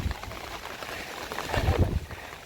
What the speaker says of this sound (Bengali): একে তো বৃষ্টি পড়তেছে, তারপর বাতাস।